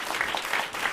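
Brief burst of audience applause at an agriculture and climate resilience panel event, a moderate wash of many hands clapping at once.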